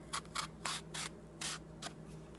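A knife cutting through plantain, taking off the ends and slicing down: a series of short, quiet scraping cuts in uneven rhythm, close and faint, with no talking.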